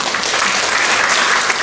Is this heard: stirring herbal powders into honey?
no